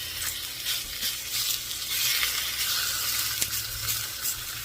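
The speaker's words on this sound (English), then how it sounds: "Now I've got a half a package of bacon here. So we're just going to fry it up." Half a package of bacon frying in a pan toward crispy, a continuous close crackling sizzle with bursts of popping spatter and no talk over it.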